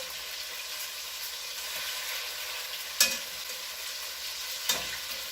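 Chicken pieces for coq au vin sizzle loudly and steadily in a hot pan, with two sharp clanks of the utensil against the pan as the pieces are turned.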